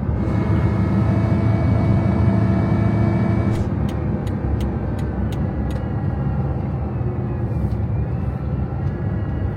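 A Bugatti Veyron Vitesse driving around Monaco gives a steady loud engine drone from inside the car, with a few sharp clicks partway through.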